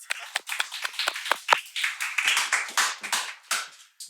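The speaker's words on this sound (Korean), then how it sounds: "다시 한 번 더 박수 한번 부탁드리겠습니다" Close, fairly sparse clapping from a small audience at a university history talk concert, with distinct individual claps rising into a brief irregular patter and then trailing off.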